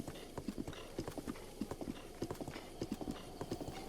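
Horse hooves clip-clop steadily at a riding gait in The Legend of Zelda: Breath of the Wild, a rhythmic run of paired thuds close up, with a faint background game ambience and no talk.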